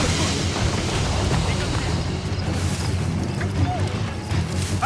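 Mortar fire striking a ship during a naval battle in Assassin's Creed Rogue: dense, rumbling booms and explosive thuds amid constant sea and battle noise.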